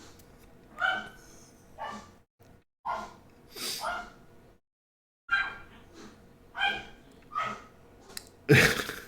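An old dog barks in another room, several bursts of muffled barking spaced apart with short quiet gaps, faint and set well back from the microphone.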